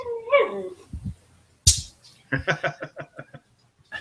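A dog gives a high, wavering whine, then a quick string of short yelping whimpers, loud and close against a quiet background.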